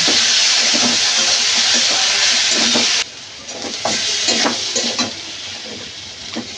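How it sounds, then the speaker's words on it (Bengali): Ginger paste sizzles loudly in a pan with fried onions and potatoes as a spoon stirs it with scraping strokes. The hiss drops partway through, then continues more softly with intermittent stirring. "এই আদা বাটাটা ভালো করে কষিয়ে নেব।"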